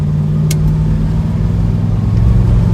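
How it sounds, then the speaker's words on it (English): A 1970 Plymouth Road Runner engine drones loud and steady from inside the car as it accelerates through manual gear shifts, with a low rumble and one brief sharp click. "We're going into first, and then we'll go into second, and then drive."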